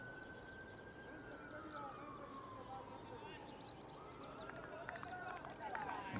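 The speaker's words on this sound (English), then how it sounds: "I can hear the ambulance in the background" An ambulance siren wails faintly in the distance at a cricket ground in Malta, its falling tone drifting under a noisy outdoor background.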